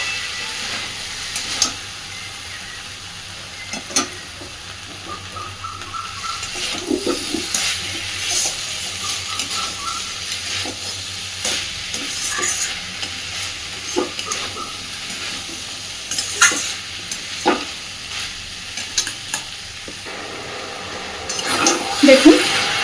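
Raw green banana ghonto with fried potato, fully vegetarian, being stirred slowly in a pan: a steady soft sizzle with irregular scraping and clinking strokes across the whole stretch, close by, with no talking.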